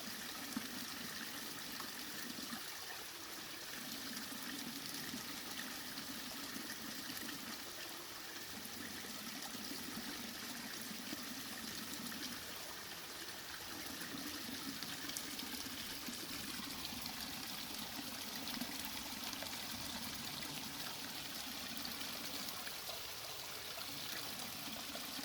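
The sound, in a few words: water draining through a Sawyer filter into a clean bag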